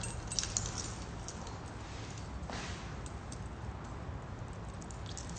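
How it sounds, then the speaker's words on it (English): A bunch of keys jangles and clinks steadily for several seconds, close and fairly quiet, with no voices over it. "You want the keys? You want these?"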